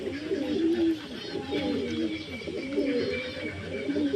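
Tame pigeons being fed grain in the afternoon coo in low, repeated rolling calls close by, steady throughout, while a person talks over them.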